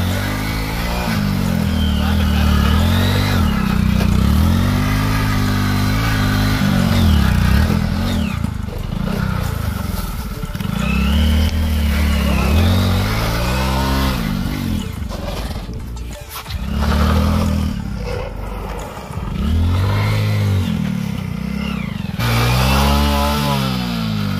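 A Glamour motorcycle engine revs hard while climbing rough off-road ground, loud and close, with repeated rising and falling throttle bursts throughout and a voice talking over it at times.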